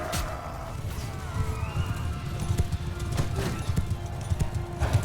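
Rapid, rhythmic hoofbeats of a galloping horse in the video game Mount & Blade II Bannerlord, a steady close clip-clop drumming throughout with faint battle noise behind it.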